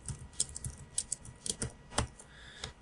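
Keys clack on a computer keyboard in a short, uneven burst of distinct taps, close and fairly quiet, with no one talking.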